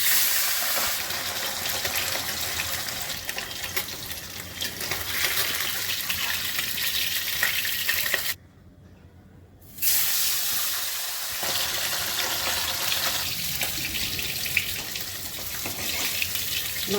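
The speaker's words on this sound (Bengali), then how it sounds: "মাছগুলো ভেজে নিচ্ছি।" Pabda fish fry in mustard oil with a loud, continuous hissing sizzle that drops out abruptly for about a second before resuming at full strength.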